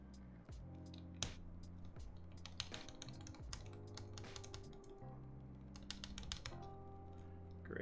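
Keyboard keys with a test keycap on the stabilizers are pressed repeatedly and sharply, producing close, quiet clacks in irregular bursts over a faint hum.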